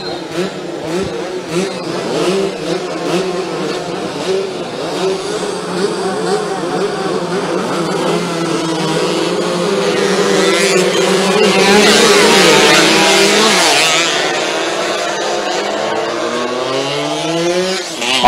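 Two-stroke 116cc underbone motorcycles racing at Ratona Moto Sport circuit in Palopo, several high-pitched buzzing engines revving and passing in overlapping waves, loud and close, with a commentator talking over them.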